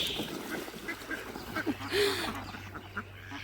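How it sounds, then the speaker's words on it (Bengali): Ducks at a village pond give a few scattered quacks, one fairly clear and nearby, over outdoor ambience with faint speech in the background. "কতগুলো হাঁস, দেখতে খুবই ভালো লাগতেছে।"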